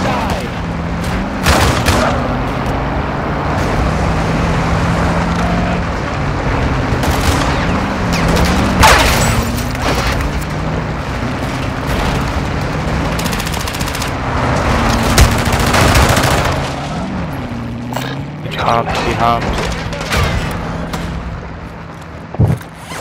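Gunfire in Call of Duty DMZ: rapid automatic bursts and heavy shots, loud and close, mixed with booms and other game sounds over an engine-like drone, with a voice talking at times.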